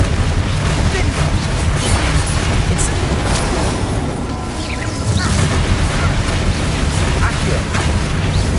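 Bombardo and Confringo spell explosions in Hogwarts Legacy make dense, loud booms and crashes that pile on one another, while a voice shouts spell names over the combat.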